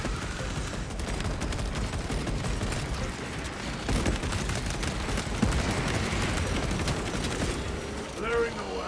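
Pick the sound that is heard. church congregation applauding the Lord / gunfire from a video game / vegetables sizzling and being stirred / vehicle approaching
gunfire from a video game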